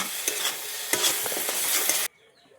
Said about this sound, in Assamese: এতিয়া এইখিনি এনেদৰে তেল বিৰিঙি যোৱাকৈ ভাজি লৈছোঁ